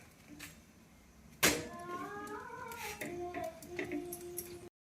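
Several small, high kitten meows rise and fall one after another, fairly quiet, with soft rustling and a sharp tap in between.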